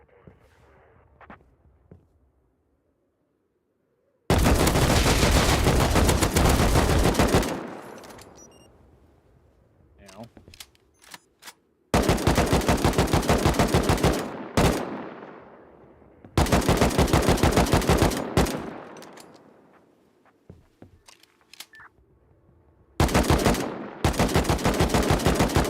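Bursts of automatic gunfire in the survival video game Rust, several loud sustained volleys separated by quieter gaps with scattered single shots and faint background game sounds.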